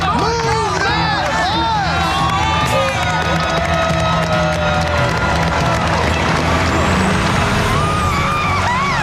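A bus rumbles and hisses with air brakes as it pulls away before a cheering crowd at a home makeover reveal, with shouting, whoops and voices layered loudly over the engine.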